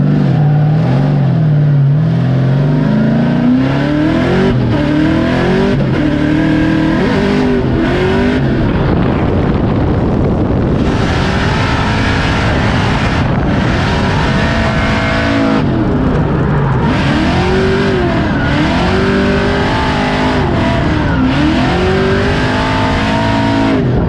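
A Formula Drift car on a practice lap at Grantsville howls loudly throughout, its engine revving up and down in repeated sweeps with tire noise, continuous and close, no talk.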